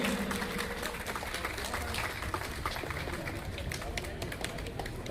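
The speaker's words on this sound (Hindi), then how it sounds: "तालियां जरूर बजनी चाहिए।" An audience claps to welcome a guest onto the stage at a foundation-stone ceremony for a Raigar dharamshala in Haridwar; dense, steady applause fills the whole clip and blends with voices.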